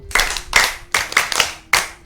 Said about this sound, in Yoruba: Àtẹ́wọ́ àwọn òbí yín dà o